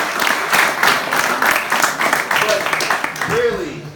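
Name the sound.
audience clapping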